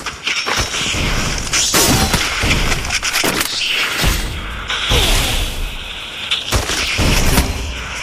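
Gunfire in the Free Fire video game, with loud sharp shots and crashing impacts going off in bursts across the whole span, dense and close, along with breaking and booming effects.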